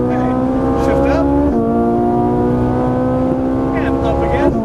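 A Ferrari engine on a track drive roars loudly and steadily, its pitch climbing as it accelerates, then dropping with a gear change near the middle before rising again.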